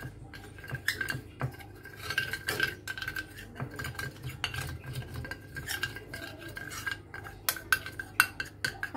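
A spoon clinks and scrapes steadily in a bowl as cornflour is stirred with a spoonful of white oil into batter for Danish pastries, a close, busy rhythm of small metallic taps.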